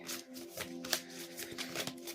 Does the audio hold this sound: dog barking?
no